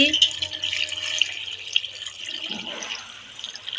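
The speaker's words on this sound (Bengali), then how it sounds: "আমি এখন জল দিয়ে দিচ্ছি" Water is poured into a pan of egg curry cooking with cauliflower and potato, a steady splashing hiss over faint low background hum, with no talk.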